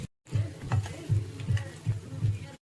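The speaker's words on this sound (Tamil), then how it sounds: "இதை போட்டு முட்டையை நல்லா வதக்கி எடுத்துக்கலாம்" Eggs sizzle in spiced masala in a hot pan while a utensil stirs in a regular rhythm, with scraping strokes repeating about every half second.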